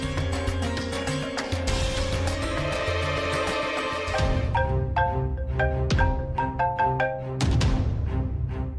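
A telephone rings as a call is placed from a family home in a Bhojpuri TV drama, its tone repeating loudly and steadily over a bed of background music, with no talk.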